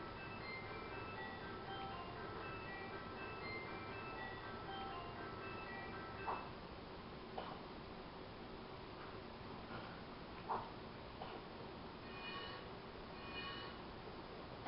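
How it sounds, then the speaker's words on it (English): An ice cream truck in the Lego Batman video game plays its tinkling chime melody continuously, faint and steady, with a few small clicks scattered through. "we can't even get in the ice cream truck anymore"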